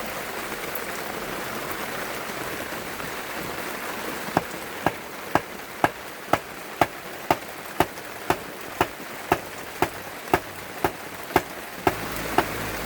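Heavy rain pours steadily in a constant hiss, with a regular series of sharp ticks or taps standing out over the downpour in the second half.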